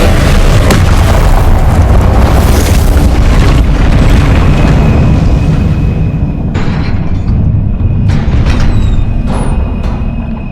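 Spell explosions from the Hogwarts Legacy video game, Confringo and Incendio curses: heavy booming blasts with a rumbling low end, loud and dense at first, then thinning to sharper scattered bursts and crackles as the roar fades.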